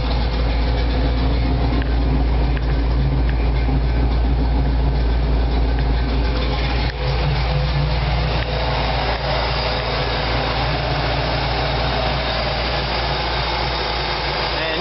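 A steady, loud engine drones continuously in a Jeep 4x4 mud truck fitted with MSD Atomic EFI. The low rumble runs unbroken throughout, with no talk.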